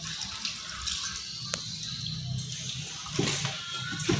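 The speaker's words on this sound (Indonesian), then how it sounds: "Gunakan air mengalir." Tap water runs steadily into a sink for hand washing, a close, continuous splashing stream with slight surges.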